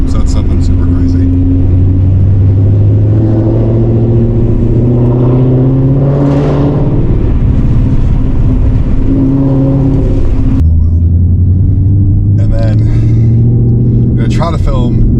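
A 2025 Whipple-supercharged Mustang GT drives along with a loud, constant low engine drone and rumble heard from inside the car, the pitch shifting as it accelerates, with people talking over it.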